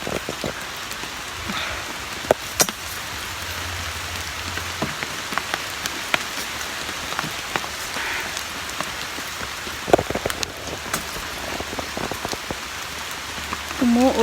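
Steady rain pours outdoors in the mountain countryside, a dense, even hiss with scattered sharper drop hits throughout, close and continuous.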